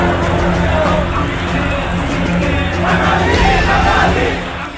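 A vast crowd of Hindus marching through the streets of Bangladesh in protest against violence, shouting together in a dense, loud, continuous roar of many voices that swells near the end.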